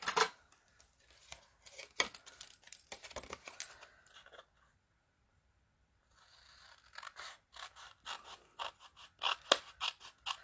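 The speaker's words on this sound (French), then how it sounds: "Mes ciseaux." Scissors snip through paper for a scrapbook page, a series of crisp close clicks and cuts in quick bursts, pausing briefly before a fresh run of snips.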